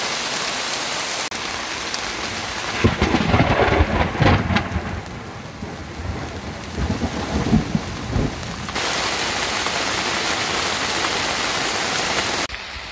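Heavy rain pours steadily on a boat moored at an abandoned marina in Greece, while deep thunder rumbles and rolls through the middle, fading back to the constant hiss of downpour.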